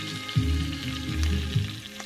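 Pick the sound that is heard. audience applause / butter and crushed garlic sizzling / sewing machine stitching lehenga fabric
butter and crushed garlic sizzling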